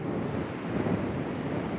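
A steady roaring rush of hot summer wind gusts buffets the microphone in Maremma, Tuscany, a dense low blustery noise with no pauses.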